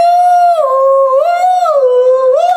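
A dog howls in a long, loud, sustained wail that rises and falls in pitch over a couple of seconds, close by and alone with no talking.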